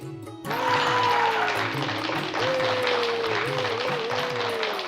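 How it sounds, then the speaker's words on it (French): An indoor audience applauds before the first performance of an evening competition, a dense steady wash of clapping starting abruptly and holding at an even level, with a sustained tone and faint murmurs underneath. "Applaudissez!"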